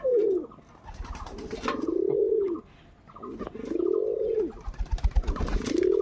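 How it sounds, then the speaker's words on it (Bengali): Pigeons coo up close in long, rolling, throaty calls that rise and fall, one after another with short gaps and some fluttering and shuffling underneath. "দেখো কত পায়রা।"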